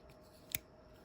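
A single quick metallic snip from the small scissors of a Leatherman Free P4 multitool, crisp and close, surrounded by quiet.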